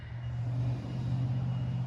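A car passes on a road near a farm, a steady low engine and tire rumble that swells slightly and holds, with wind blowing throughout.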